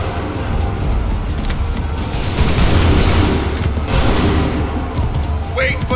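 Musket volleys from a battle in Assassin's Creed III, with dense booming gunfire and crackle over steady battle noise, a louder burst near the middle, and shouted commands in between.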